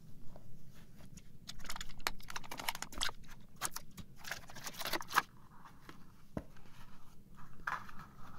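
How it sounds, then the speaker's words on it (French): Someone opens a Raspberry Pi 5 box, and the scene is full of close, quiet cardboard and packaging handling: a series of crisp rustles, scrapes and small taps in irregular bursts, with one sharper click near the middle. "on va ouvrir la boîte"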